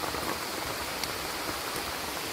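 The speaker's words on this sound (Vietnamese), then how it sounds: "Bên ngoài vẫn đang mưa ầm ầm này." Heavy rain pouring down outside a makeshift bush shelter in the wild, a dense continuous hiss of drops drumming on surfaces, steady and even with no voices.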